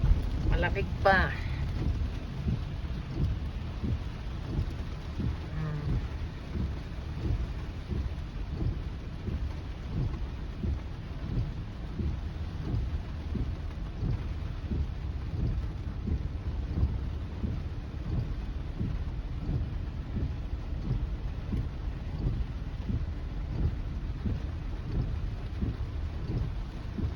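Steady heavy rain pours continuously in Los Angeles with low rumbling thunder underneath, a dense, loud wash of water throughout.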